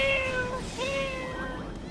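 A cat meows in the video game Final Fantasy XIV: two clear, drawn-out meows, the second following shortly after the first, up close and alone.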